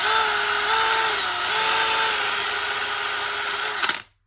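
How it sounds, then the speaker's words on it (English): A drum sander fitted with 80-grit sandpaper smooths a rust repair on a Mazda MX-5 NC Miata body, producing a steady high whine with sanding hiss, close and loud, before spinning down and stopping at the end. "give it a quick sand down to make it nice and smooth. I've got some 80 grit on drum."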